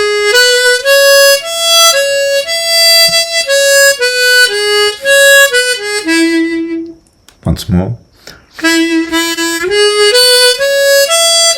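Harmonica plays the descending old-time pattern from "Going up to Hamburg" slowly, sustained blow and draw notes stepping down, then a short spoken phrase before the line repeats clearly and loudly.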